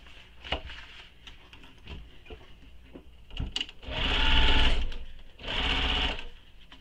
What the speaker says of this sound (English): I'm going to sew that short edge using the seam allowance given in the pattern